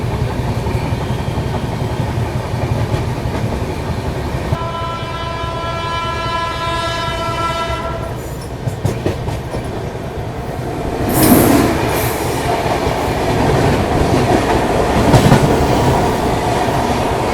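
The Kanpur Shatabdi Express rumbles along the rails toward New Delhi, a loud steady roll with a long train horn blast early on, then rattling clickety-clack and track clunks as it nears a junction.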